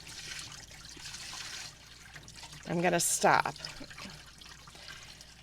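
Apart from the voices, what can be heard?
water dumped out of ceramic studio pre-rinse bucket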